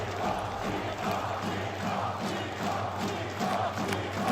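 Esports arena crowd at a CS2 match roaring after a player takes all five kills in a round, a steady, dense wall of cheering and shouting that holds throughout and swells slightly near the end.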